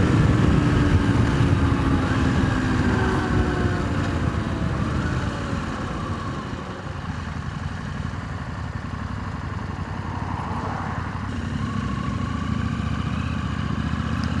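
A KTM 890 Rally motorcycle engine pulls at low revs in sixth gear, a steady close rumble with wind noise that rises slightly as the throttle rolls on, with no talking.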